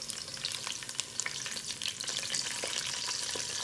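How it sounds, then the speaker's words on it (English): Potatoes for chicken biryani fry in hot oil in a pan, a dense, steady, close sizzle full of crackling pops throughout, with no voices. "potato is cooking very well"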